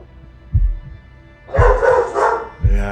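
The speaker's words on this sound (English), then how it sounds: "Dogs are excited for you, Mo." Dogs in the horror survival game VEIN bark excitedly in three loud, separate bursts, each paired with a low thump, over a steady game hum with no talking.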